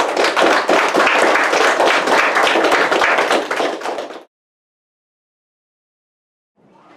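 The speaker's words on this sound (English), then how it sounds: "Let's have a round of applause for Matthew." Loud, close applause from a school audience for a speaker at Dover Bay Secondary School, dense clapping for about four seconds that stops abruptly, followed by silence, then a faint new sound at the very end.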